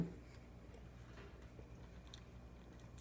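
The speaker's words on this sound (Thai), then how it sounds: "พี่เคี้ยวนะคะเคี้ยวค่ะ" Someone chews a McDonald's grilled chicken burger with cheese, giving faint, close, soft wet bites and mouth clicks over low background hum, with no talking.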